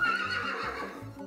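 Horses at a rural tourism farm in Belgorod region whinny in a long, loud neigh, with faint hoof clip-clops beneath, heard close and alone without talk.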